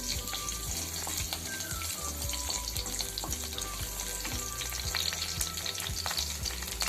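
Curry leaves, cinnamon and bay leaf crackle in hot oil in a pan, a steady close sizzle broken by repeated low knocks and scrapes of stirring.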